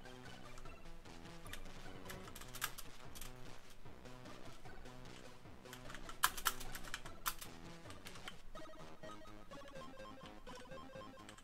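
Computer keyboard keys are tapped while playing a ZX Spectrum game on an emulator, a busy irregular run of clicks over game music, with a few louder strikes midway.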